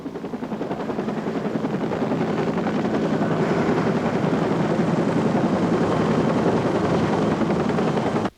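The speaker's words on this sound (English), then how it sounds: "When I watched that helicopter go up," A helicopter taking off, its rotor chopping loudly and steadily, the whirring drone building at first and then holding strong close by before cutting off abruptly.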